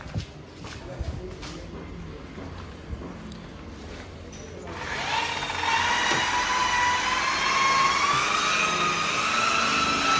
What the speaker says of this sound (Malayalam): പോളിഷ് അടിച്ചുകൊണ്ടിരിക്കുന്നുണ്ട്.